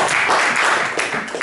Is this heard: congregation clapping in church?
yes